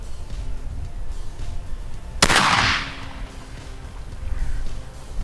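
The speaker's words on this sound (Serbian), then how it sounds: "Pucanje nakon korekcije." A single sharp rifle shot from a rifle fitted with an Aimpoint red-dot sight cracks out loud and close during target shooting, followed by a brief rolling echo over quiet outdoor ambience.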